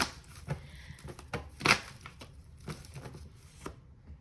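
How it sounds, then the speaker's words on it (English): Tarot cards are shuffled up close, giving a run of crisp papery slaps and flicks in an irregular rhythm that fades toward the end. "I'm going to keep shuffling until I get a clear yes or no."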